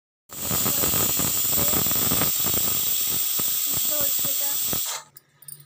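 A pressure cooker of soybean and potato vents steam in a loud, steady hiss that holds for nearly five seconds before cutting off abruptly, with faint kitchen clatter underneath.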